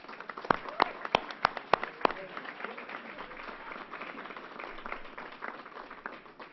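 Applause from the audience at a news conference: a few sharp, close claps at first, then a softer, steady patter of clapping that continues for several seconds.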